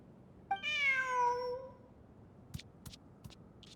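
A cat in the video game Genshin Impact gives one clear, drawn-out meow up close, followed by a few faint, soft clicks against a quiet background.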